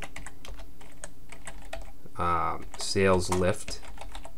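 Steady rapid typing on a computer keyboard, close and continuous through the clip, with someone briefly speaking over the clatter near the end.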